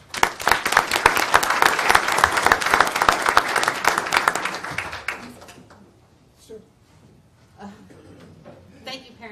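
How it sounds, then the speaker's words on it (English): A school board meeting audience gives a dense, loud round of applause for parents that lasts about five seconds, then thins into a few scattered claps and taps. "So we'd like to give you a round of applause."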